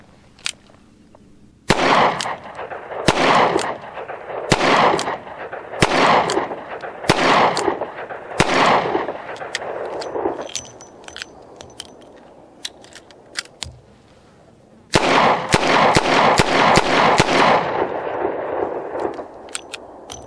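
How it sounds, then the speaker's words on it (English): A Rock Island Model 206 .38 Special revolver fires Federal ammunition outdoors: six loud, sharp shots spaced about a second apart, a pause, then a faster string of six more in quick succession. "I'm going to fire 6 rounds single action, and then I'm going to reload and fire 6 rounds double action Federal ammo."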